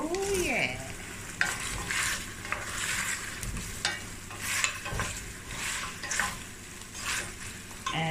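Potatoes dropped into a hot pan and stirred as they fry, a steady close sizzle with repeated scraping and clattering of a utensil against the pan throughout.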